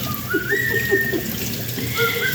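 Pet birds kept at home whistle a long, clear, rising note, then a run of short repeated chirps and another sustained tone, close and fairly loud over a steady watery hiss.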